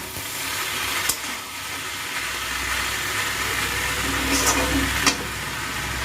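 Steady sizzling of small fish and winter vegetables frying in a pan, with a low continuous hum underneath and a couple of brief clinks from stirring.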